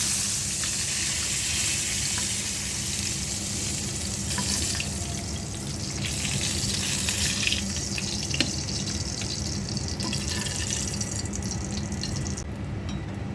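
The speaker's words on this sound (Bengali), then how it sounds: "3-4টা শুকনো মরিচ ভেজে নিলাম।" A few dried red chillies frying in oil, heard as a steady hissing, rushing sizzle that stays loud and constant throughout, with faint clinks and no talk.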